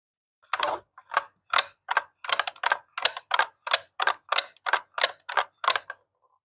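Reed relays inside a desktop crazy golf game click as a magnet is held close, giving a quick irregular series of about sixteen crisp, close clicks against silence.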